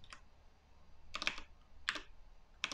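Typing on a computer keyboard while writing code: a few short bursts of close key clicks separated by brief pauses, fairly quiet with no talk.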